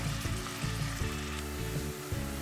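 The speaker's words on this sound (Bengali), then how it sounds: "পেঁয়াজটাকে খুব ব্রাউন কালার করে বাদামি কালার করে ভেজে নিতে হবে" Chopped onions frying in oil until brown give a dense, continuous close sizzle with a few soft stirring bumps, loud and unbroken, no voices.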